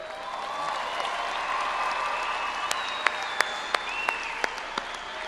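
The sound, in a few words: audience applause at a commencement ceremony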